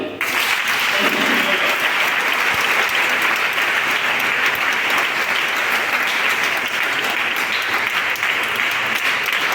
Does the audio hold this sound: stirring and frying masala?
no